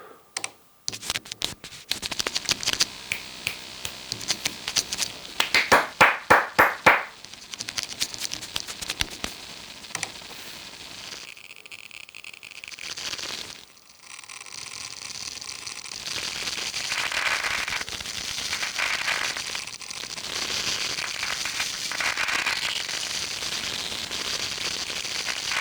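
Hand claps, finger snaps and scratches captured into a sampling buffer: a rapid series of sharp, dry clicks and snaps early on, then a denser scratchy, crackling texture that swells and continues at moderate loudness.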